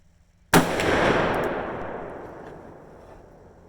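A single loud, close gunshot from a Ruger Super Blackhawk .44 Magnum revolver firing a handload, a sharp crack followed by a long rolling echo that fades over a few seconds.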